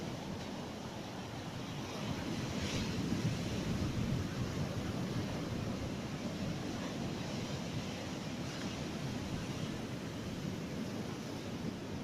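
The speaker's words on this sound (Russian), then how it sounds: "Разыгралось Черное море." Stormy Black Sea waves crash and roar in a continuous, heavy wash of surf, mixed with wind buffeting the microphone, with no voices.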